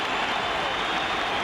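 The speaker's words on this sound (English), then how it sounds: "They're actually applauding everyone. Not a boo in this." Basketball arena crowd at the 1979 NBA Finals between Seattle and the Washington Bullets applauding, a dense, sustained roar of clapping without breaks.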